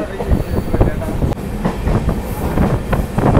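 An Amrit Bharat Express train rolls on the outskirts of Salem Junction, heard from on board with a continuous rumble and rhythmic clickety-clack of the wheels. It is loud and close, with one sharp knock partway through.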